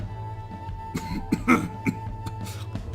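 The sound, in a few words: man coughing, from a video game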